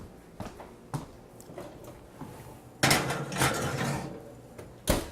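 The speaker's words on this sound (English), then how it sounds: "I'm gonna just shake it around so it gets to all the corners. And this is going right into the oven." A baking dish being shaken on a kitchen counter, then slid into an oven, heard as scattered clinks and knocks followed by a louder rattling clatter and a final bang near the end, with no talking.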